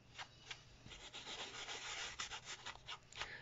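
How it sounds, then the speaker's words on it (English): Soft brushing of excess gilding flakes off a handmade birthday card back into a tub, a series of quiet dry rubbing strokes in close, uneven rhythm with no talking. "Just trying to brush off most of the excess back into the tub."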